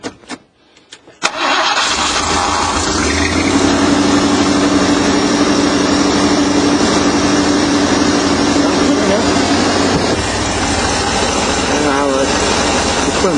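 A van engine cranks and catches after a brief moment, then settles into a steady, loud, low rumbling idle that runs continuously to the end.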